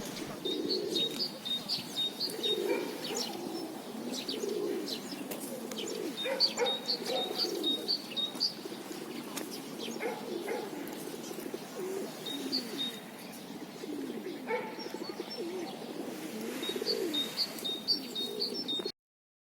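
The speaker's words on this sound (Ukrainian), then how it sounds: "наші сучасні голуби повсідались біля своїх славетних пращурів" Pigeons coo continuously in low, throaty murmurs in Kryvyi Rih, with occasional high chirps and wing flutters from smaller birds nearby.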